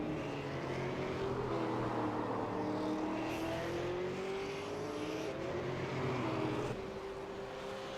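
A sim race car runs down the front straight at Road Atlanta, its engine droning steadily with rising and shifting pitch. Other cars whine by faintly in the background.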